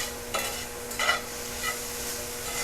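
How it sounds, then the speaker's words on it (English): Garlicky vegetables frying in a pan and stirred, a steady close sizzle broken by a few brief scraping strokes of the utensil, with no talk. "I'm just giving my veggies a little stir here"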